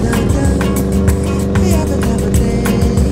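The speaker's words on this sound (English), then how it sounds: "I'm driving my VW SP from 1976." A 1976 Volkswagen SP2 drives along with a steady engine hum and road noise, heard from close inside, with small regular ticks and bumps running through it.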